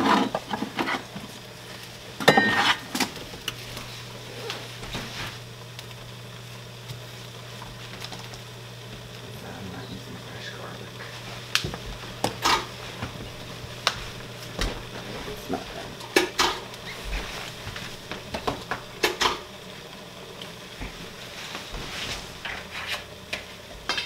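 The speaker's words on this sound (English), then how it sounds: "we're just going to saute these for a couple seconds before we add our other ingredients to our noodles" Vegetables being sautéed in a pan for noodles: mostly clinks and scrapes of a utensil against cookware, with sporadic knocks and a faint low hum beneath, close by and without speech.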